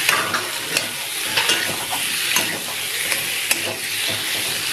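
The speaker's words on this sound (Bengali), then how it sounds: "এটাকে নাড়াবো।" Food sizzling and frying in a pan with tomato and soaked Gobindobhog rice, stirred with repeated utensil scrapes and knocks over a constant hiss, close by with no talking.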